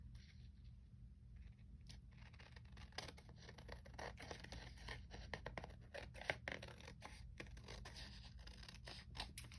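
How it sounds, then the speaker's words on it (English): New, very sharp scissors snip and fussy-cut around a paper journaling card, a run of quiet close crisp cuts and rustles under low steady background hum. "It goes like it slips through the paper too quickly when I fussy cut."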